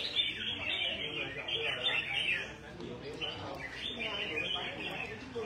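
A songbird kept by a Dong Nai bird keeper chirps in quick, bright bursts throughout, fairly close, with low background voices murmuring underneath.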